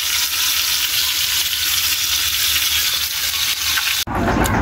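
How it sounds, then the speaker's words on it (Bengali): Fish fries in a pan over a clay stove, a loud continuous hiss and crackle close up that cuts off abruptly near the end. "এই যে মাছ ভাজতেছে"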